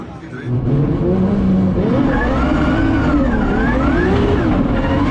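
A drift car heads out on a practice run at Drift Masters Germany, its engine droning loud and steady, with the pitch rising and falling as it revs, under a voice speaking.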